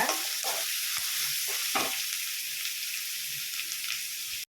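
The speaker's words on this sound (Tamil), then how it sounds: "வெங்காயம் நல்லா வதக்கிக்கோங்க" Onions sizzle steadily in hot oil, with a few stirring scrapes of a spatula against the pan.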